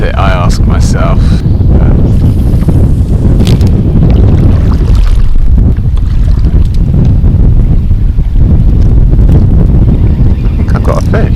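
Strong wind roars across the microphone on Lake Kurwongbah during bass fishing from a boat, a constant loud low buffeting with water slapping, and brief voice fragments show through the gusts.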